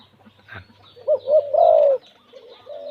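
A male spotted dove coos to a female, giving a few soft, close, throaty hoots that swell into a longer rolling coo, then a fainter one after a short pause; no voices.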